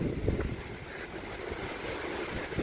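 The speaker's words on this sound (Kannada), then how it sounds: "ಗಾಳಿ ನೋಡ್ರಿ ಯಾವ ಪರಿ ಐತಿ" Steady wind buffets the microphone with low rumbling gusts, a continuous roar that swells slightly at moments, with no voices.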